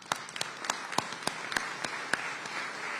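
Clapping at an Oakland mayor's State of the City address, a short burst of distinct, evenly spaced claps standing out over a soft spread of audience applause.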